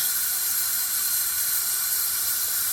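Compressed air hisses steadily into an engine cylinder of a 460 engine, a loud, continuous close-up rush with no break.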